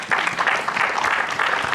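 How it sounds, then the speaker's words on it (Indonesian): Audience clapping at a live Indonesian stand-up comedy show, a short burst of dense, even applause from a crowd close by, brief and steady throughout. "Yang nonton film yang dibilang Pak Andro tadi boleh tepuk tangan"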